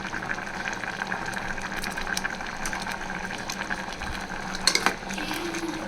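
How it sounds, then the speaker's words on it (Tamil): Steady soft bubbling and sizzling of mutton curry simmering in a pot on the stove, with a brief clink of utensils near the end. "குழம்பு கொதிக்குது"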